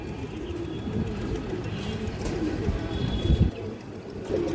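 High flyer pigeons, big-sized and cream-eyed, coo softly in the background amid a steady low rumble and occasional handling noises.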